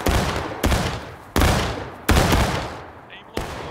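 Gunfire at a Friday event comes as four loud, heavy reports, each a close boom with a long rumbling decay, spaced unevenly with no gaps of quiet between them.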